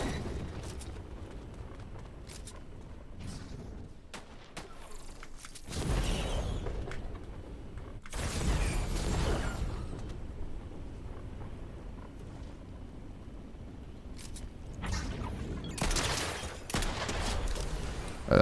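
Pistol shots and bursts of gunfire in Fortnite come in loud, dense volleys separated by quieter gaps of game ambience, with several booming clusters across the stretch and no voices.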